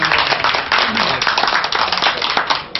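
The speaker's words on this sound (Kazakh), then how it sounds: "рұқсат бергендеріңізді шапалақ ұрып қойыңыздар" An audience claps at a concert, dense and continuous, close and loud, with a voice partly heard under the applause.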